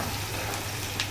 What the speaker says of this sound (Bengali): পেঁয়াজগুলা ভেজে নিব।